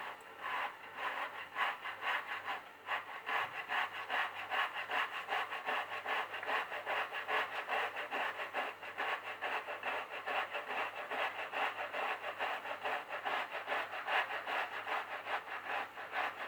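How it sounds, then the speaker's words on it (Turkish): Zucchini being grated by hand on a box grater for zucchini fritters, a steady rhythmic rasp of quick back-and-forth strokes, close and continuous for the whole stretch. "elimize dikkat ederek rendeliyoruz"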